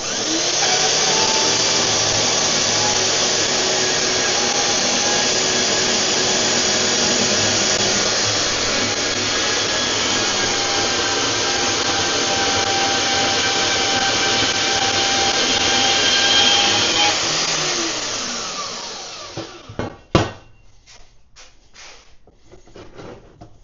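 Power tool cutting through steel angle iron in a workshop, a loud steady grinding whine that holds for about seventeen seconds, then tapers off into a few sharp clanks and knocks.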